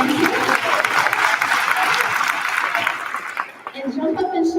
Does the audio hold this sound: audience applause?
yes